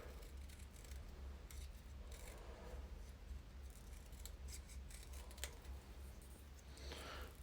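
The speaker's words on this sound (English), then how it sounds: "And then I'm just going to snip off the ends like so." Scissors snipping the ends off paper for handmade thank-you cards: a few quiet, close crisp snips over a faint background hiss.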